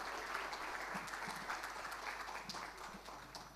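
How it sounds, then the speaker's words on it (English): Closing round of applause from a seated audience at a breakout session on Maldives resorts, steady dense clapping held at a moderate level throughout, without speech over it. "So one final round of applause to ourselves, please."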